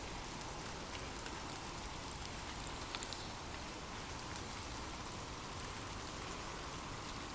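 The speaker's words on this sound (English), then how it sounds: "Imagine gentle raindrops falling softly on leaves" Gentle rain falling on leaves, a steady, even wash of soft patter with no breaks, faint and continuous with no voices.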